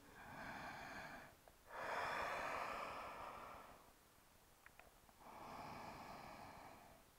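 Slow, deep breaths during a yoga session, with long airy inhales and exhales in three broad swells separated by quiet pauses; faint and close, with no talking.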